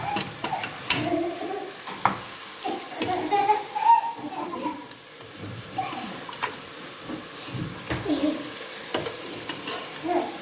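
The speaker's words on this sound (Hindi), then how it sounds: "देखो अब इसमें बोटियाँ डाल के भुनेंगे" Beef pieces sizzling in cooked spice masala for beef paye, with steady frying and repeated scraping stirs of a spoon against the pan, close and moderately loud, with faint voices in the background.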